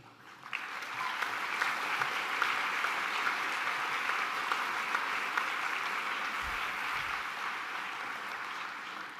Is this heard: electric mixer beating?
no